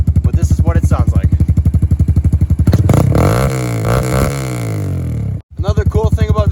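A motorcycle fitted with a loud aftermarket exhaust revs hard and close, its throbbing idle rising into a sustained snarling pull before a sudden cut and a return to the lumpy idle.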